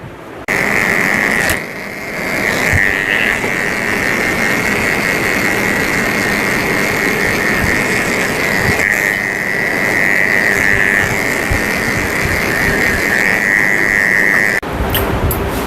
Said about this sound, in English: I'm shaving his potty area and his belly and his underarms all with a 10 blade, which is very short